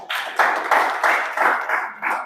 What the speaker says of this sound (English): Can we clap for OQATA?